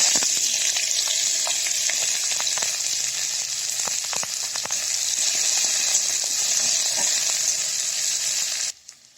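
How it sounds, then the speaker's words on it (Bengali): A loud, steady sizzle of chopped onions frying in hot oil in a wok, crackling continuously with occasional pops, then cutting off abruptly near the end. "কড়াইতে তেল গরম করে আমি পেঁয়াজ কুচি"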